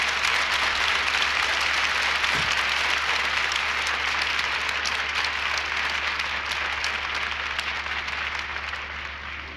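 Dense, sustained applause from a large audience at a church gathering in Pakistan, a loud, even roar of clapping hands that carries on without pause from start to finish.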